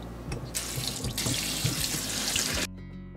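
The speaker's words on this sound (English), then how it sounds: "Drain and rinse the chickpeas." Tap water runs into a kitchen sink, rinsing drained canned chickpeas in a strainer, a close, steady splashing rush that stops abruptly near the end.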